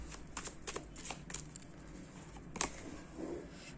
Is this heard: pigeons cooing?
no